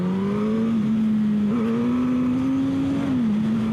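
Suzuki GSX-S 1000 motorcycle from 2016 accelerating hard in first gear, a loud close engine drone climbing steadily in pitch with a brief dip mid-pull and another near the end.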